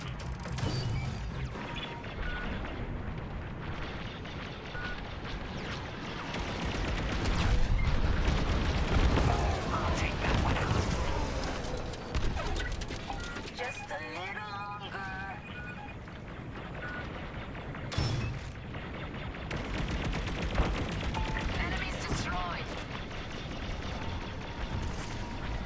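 A starfighter takes incoming fire in Star Wars Squadrons: dense, busy space combat with rattling mechanical clatter, booming impacts and crashes over a constant engine roar, swelling mid-way, plus brief electronic beeps.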